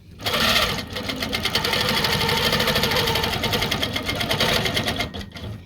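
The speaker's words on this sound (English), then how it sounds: "turn my stitching on and just come down the side of the quilt so that I'm anchoring this side and basting it down" A quilting machine stitches down the side of a quilt to anchor and baste it, giving a fast, steady mechanical rattle that runs loud and close for several seconds before easing off.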